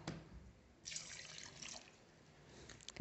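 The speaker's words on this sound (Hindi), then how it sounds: "अब मैं इसमें डालूँगी आधा कप पानी" Half a cup of water is poured into a grape juice mixture, a faint, steady splashing trickle that swells partway through.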